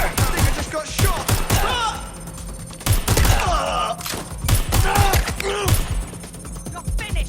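Gunfire in a Watch Dogs Legion prologue shootout comes as repeated sharp shots in uneven bursts, loud and near, mixed with thuds, grunts and whooshing game effects.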